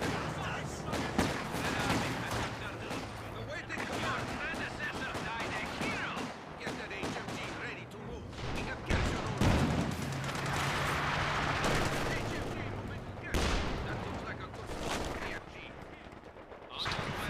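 Machine gun fire in the WWII strategy game Company of Heroes 2, rapid bursts and scattered gunshots crackling over a dense battlefield din, with occasional heavy booms, steady and loud across the whole stretch.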